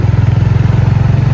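Steady mid-pitched engine drone of a motorcycle being ridden on an early-morning outing, a continuous rhythmic hum at fairly close range that holds even and unbroken for the whole short stretch.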